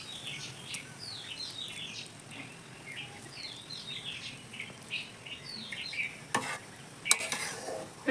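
Eggs simmering in boiling coconut milk for egg korma, giving a soft, steady bubbling sizzle throughout, with birds chirping in the background and a couple of sharp utensil clatters near the end.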